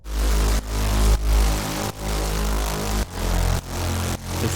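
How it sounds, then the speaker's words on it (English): Grunge bass layered with a deep sub bass in a heavy melodic dubstep track, thick low sustained notes pulsing and ducking in a regular rhythm, loud and alone. "We also have two basses, a grunge bass and a sub bass, sound like this"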